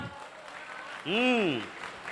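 Audience applause after a Hindi poetry recital about Lord Ram at a religious discourse stage, a steady crowd wash with a loud rising-and-falling whistle or cheer swelling up in the middle.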